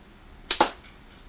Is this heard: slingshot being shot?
yes